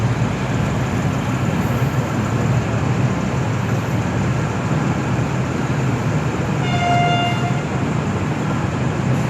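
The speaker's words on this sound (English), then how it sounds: "Train arriving on platform 2" Train arriving at Ballarat railway station: a loud, steady rolling rumble of the train, with a brief tonal horn sounding near the end.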